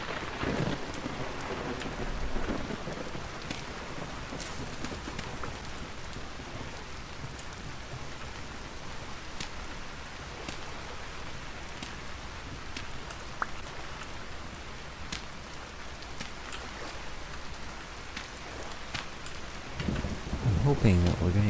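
Steady rain falls in the video game Vintage Story, with low thunder rumbling softly beneath it and a louder crack of thunder near the end.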